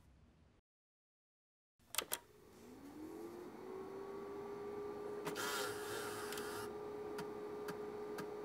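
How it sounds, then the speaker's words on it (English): Floppy drives on a Sharp X68000 loading a game across two disks: a couple of sharp clicks after a brief silence, then a steady whirring hum with a rising tone and faint ticking seek noises. "the game bounces back and forth between the two"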